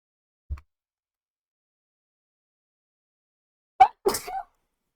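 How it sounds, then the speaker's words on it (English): A single sharp sneeze bursts out close to the microphone after a faint earlier click, followed at once by a brief voiced exhale, otherwise set against near silence. "That sneeze hurt."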